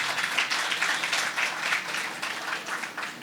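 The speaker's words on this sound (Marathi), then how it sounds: "आत्ता सगळ्यांकरता आपण एकदा जोरदार टाळ्या वाजवूयात" An audience applauding at a poetry book launch, a steady wash of many hands clapping together at moderate distance, sustained and even with no voices over it.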